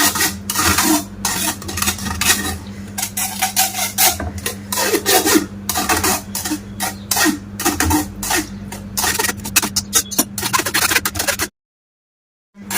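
Raw green mango pulp is pushed and scraped through a sieve in a kitchen, a steady close rasping and rubbing with quick repeated strokes for several seconds before it stops.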